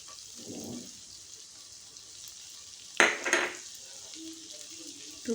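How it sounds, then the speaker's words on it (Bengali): Chopped garlic sizzles steadily in melted butter in a pan, a constant close hiss broken around the middle by a brief clatter of stirring, with no voices. "একটু ভালো করে এটাকে ফ্রাই করতে হবে এই বাটারের সঙ্গে।"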